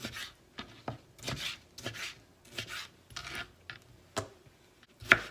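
A knife dices vegetables on a cutting board for chicken with sazón, giving irregular close chops and short scraping strokes with brief pauses between cuts.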